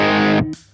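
A guitar played through a Walrus Audio Iron Horse V1 distortion pedal, set with added compression and boosted distortion, rings out as a thick, saturated chord that cuts off abruptly after a fraction of a second.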